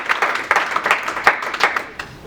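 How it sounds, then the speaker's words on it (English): A small audience giving a round of applause for a teacher, sparse uneven claps from a few people, fairly close and brief. "Round of applause for your teacher."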